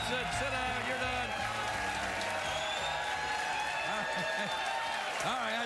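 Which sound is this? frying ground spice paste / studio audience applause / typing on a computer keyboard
studio audience applause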